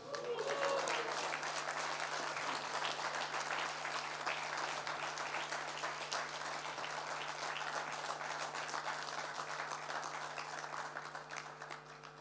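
An audience at a talk session claps at length, a dense, even wash of many hands that holds steady for about twelve seconds and fades slightly toward the end.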